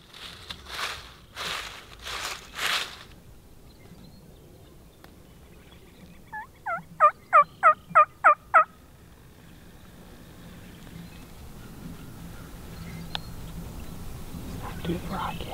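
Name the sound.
wild turkey tom gobbling along field edge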